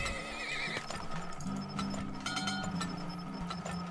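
Horses in the oil-tycoon game Turmoil whinny over and over with steady clip-clop hooves beneath, close and continuous, with no talking.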